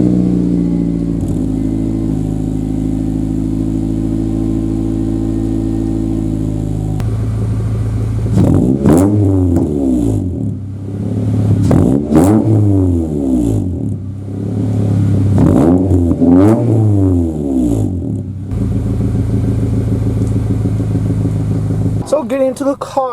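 A car engine cranks and catches, idles steadily, then revs up and down in several rising and falling bursts before settling back to idle; loud and close.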